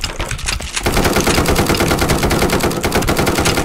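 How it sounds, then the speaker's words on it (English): Rapid automatic gunfire in the online shooter game 1v1.lol, a loud unbroken stream of close shots after a brief opening burst. "Okay, yeah, he's shooting at me."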